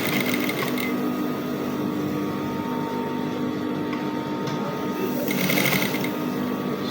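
A sewing machine back stitching brocade fabric for a pleated dress, running in a steady continuous mechanical whir close to the microphone, with a slight change in pace near the end.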